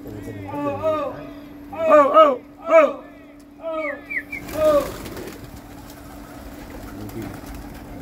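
Pigeons coo in a few short, throaty bursts close by, with a steady hum underneath and people talking in the background.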